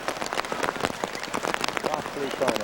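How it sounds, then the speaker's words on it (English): Steady rain falls at an outdoor curling world championship final between the USA and Canada, a dense, continuous patter of drops spread evenly across the whole stretch, with no clear talking over it. "You can see it and you can hear it. The rain."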